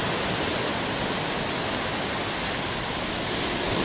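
Ocean surf washing onto a fog-covered beach on a day of huge waves, a continuous broad roar of breaking water, steady and enveloping with no distinct individual crashes.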